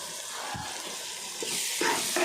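Fish curry with green chillies sizzles and fries steadily in a pan, a continuous close hiss with brief stirring knocks and the sizzle growing brighter toward the end.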